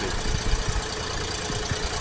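A Xingtai 244 four-wheel-drive diesel tractor engine idles steadily nearby, a continuous low rumble with a rough knocking pulse.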